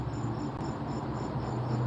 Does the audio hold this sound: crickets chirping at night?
yes